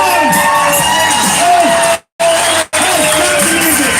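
Rodeo crowd at a county fair championship rodeo cheering contestants on, a loud sustained roar of shouts and whoops with children's voices, briefly cut out twice.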